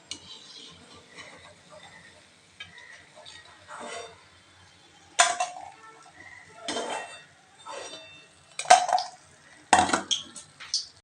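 Freshly fried suji vadas being lifted into a bowl, with scattered clinks and scrapes of a metal utensil against dishware, a few sharper knocks standing out over a quiet kitchen background.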